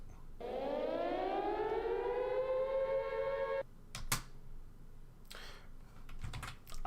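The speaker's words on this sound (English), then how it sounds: "What does a siren sound like if it's reversed?" A civil-defense-style siren sound effect sweeps up in pitch and holds as a loud rising wail for about three seconds, then cuts off, followed by a few clicks and keyboard typing.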